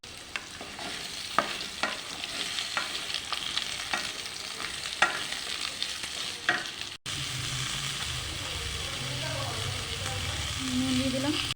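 Pumpkin and potato chunks fry and get stirred in a pan for a vegetarian vegetable dish, with steady close sizzling and scraping stirs throughout and a louder, denser burst of frying partway through.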